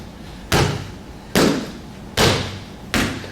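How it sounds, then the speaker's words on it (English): Four palm strikes slap a training pad during pistol retention practice, sharp and loud at a steady pace, each with a brief ringing decay and no talk. "let's do a couple of palm strikes while we're here"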